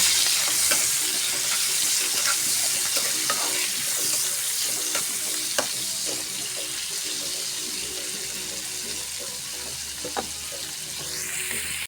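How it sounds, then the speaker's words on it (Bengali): Shrimp with turmeric and salt fry in a wok, a continuous close sizzle with light clicks of stirring, joined by running-water noise in the background. "চিংড়ি মাছগুলো কড়াইতে দিয়ে দিলাম। চিংড়ি মাছগুলো সুন্দর করে বাদামি রঙের ভেজে নেব।"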